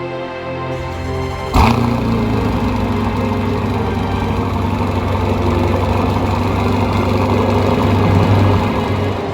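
A Lexus ES 350 engine starts up and settles into a steady, rumbling idle that continues unbroken, close by and fairly loud, with no voices.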